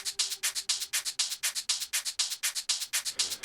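Many shakers layered together shake in a fast, even rhythm of crisp hissing hits with a swung back-and-forth pulse, close and alone with no voices.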